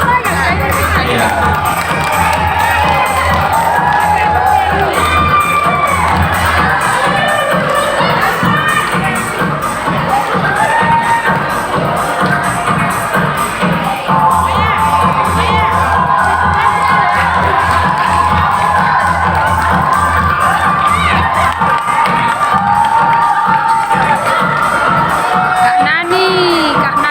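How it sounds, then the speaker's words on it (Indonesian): A lively crowd cheers, whoops and shouts at a Muslim kebaya fashion show competition in Subulussalam, Aceh, a continuous loud din with voices and children's shouts mixed in. "Berikan tepuk tangan yang meriah semuanya."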